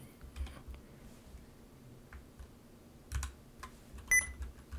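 Typing on a compact 60% computer keyboard: faint, scattered key clicks in short irregular bursts, fairly close, over a quiet room hum with no talking.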